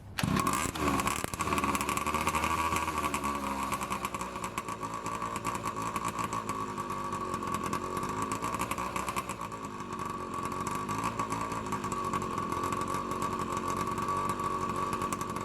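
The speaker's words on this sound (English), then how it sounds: "At this point we got it idling pretty well, but it still bogged down when we applied the throttle." A free 2-stroke pocket bike engine idles steadily with a buzzy, droning tone that holds without a break, loud and close, after a brief rev at the start.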